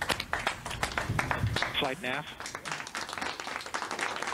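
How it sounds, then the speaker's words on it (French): Clapping and cheering in a mission control room as the Mars Perseverance landing signal is acquired, bursts of hands mixed with excited voices, and people talking loudly throughout. "Je pense qu'on peut applaudir très fort"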